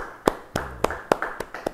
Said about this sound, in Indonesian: Yang setuju, beri tepuk tangan yang meriah bagi dia.